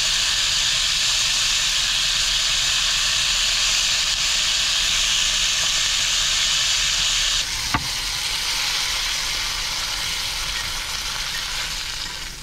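Beef and onions sizzle and fry in a pan while cooking for ramen inside a car, a loud continuous hiss and crackle that eases slightly partway through, with a brief clatter near the middle and no voices.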